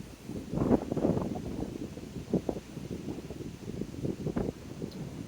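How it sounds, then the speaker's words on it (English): Wind buffets the microphone outdoors at night in uneven low rumbling gusts, a steady muffled roar with louder bursts throughout, no voices. "It's pretty windy out tonight."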